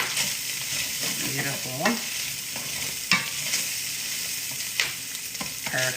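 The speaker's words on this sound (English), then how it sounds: "And I hear them sizzling, so I'm gonna give it a good stir." Spam fried rice sizzles steadily in a hot pan while being stirred, with scraping strokes and occasional louder clacks of the utensil against the pan; a voice speaks once briefly.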